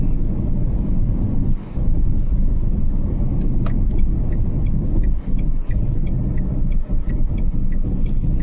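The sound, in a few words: Renault Triber car engine while driving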